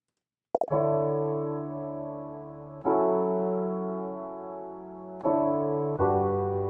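Hybrid keyboard instrument sounds from Komplete Hybrid Keys with perform mode switched off, playing four sustained chords that strike at intervals and ring out evenly, sounding plain and mechanical, with no voices.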